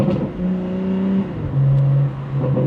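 BMW G80 M3 with a catless downpipe and exhaust valves fully open, revving close by: two quick blips rising and falling, a deep throaty burble between them, loud and without talk.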